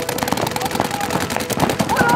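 Rapid bursts of paintball gun shots popping through a match, dense and overlapping at mid distance, with a voice talking amid the firing.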